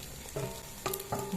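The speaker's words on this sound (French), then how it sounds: "je vais venir ajouter du coup les œufs que j'ai battus. Et laisser cuire doucement." Beaten eggs cook gently in a hot pan with a soft, steady sizzle. A few brief stirring or scraping touches come through, close and quiet.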